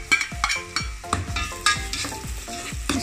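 Chopped onion and cumin seeds frying in a pan, a lively crackling sizzle punctuated by repeated clattering stirs and spatula knocks in an irregular rhythm, close and fairly loud.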